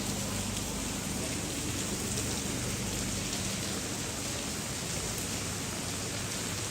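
Steady rain pours down in the streets of Genoa's historic center, a dense, even hiss at moderate loudness that continues without a break and with no voices.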